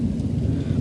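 Low rumbling thunder from a nighttime thunderstorm in the Gard region of France, a brief, loud, deep roll heard alone.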